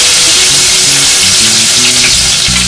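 Crushed garlic dropped into hot oil with asafoetida for toor dal saaru, a loud, close, continuous crackling sizzle with faint steady low hum beneath and no voices.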